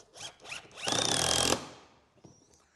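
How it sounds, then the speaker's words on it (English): A power drill drives a screw into a timber milk crate, a loud whirring burst of about a second after a couple of short lead-in spins, then fading to quiet handling noise. "I'm going to put 2 screws"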